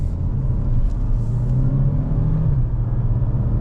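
A 2026 Renault Symbioz with a small turbo engine drones loudly from inside the cabin while driving, its low rumble rising and dipping through gear changes.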